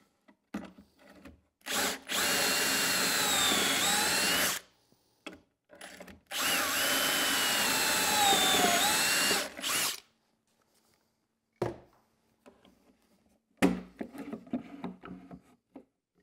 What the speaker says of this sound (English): I can just clamp the jig in place, drill holes so that I can get a nice tight glue joint as we go along.